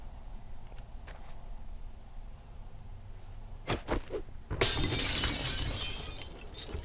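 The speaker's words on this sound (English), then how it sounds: "breaking glass, even if it's on the ground, runs that stealth up to 13 from 7" Glass shatters loudly in the video game 7 Days to Die, a few sharp knocks giving way to a bright, sustained crash of breaking glass that fades slowly.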